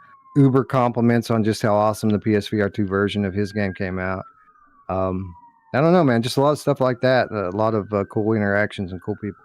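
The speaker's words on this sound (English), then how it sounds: "I apologize for the sirens on my end" Emergency vehicle sirens sound outside, a faint, slowly gliding wail running behind a man's continuous close speech.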